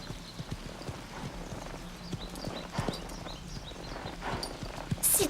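A horse walks steadily with clip-clopping hooves, a continuous moderate-level patter of hoofbeats with no voices.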